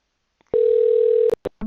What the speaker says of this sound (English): Now I need to first pick up the phone.